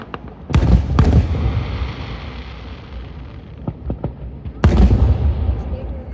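Fireworks bursting at an outdoor display, several loud booms and sharp cracks with rumbling echoes between them, heard from a distance with faint crowd voices in the background.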